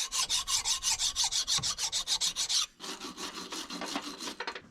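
A metal file rasps across a steel bench vise in a home workshop, a rapid run of even rhythmic strokes, close and fairly loud, that pauses and then resumes with shorter, lighter rubbing strokes.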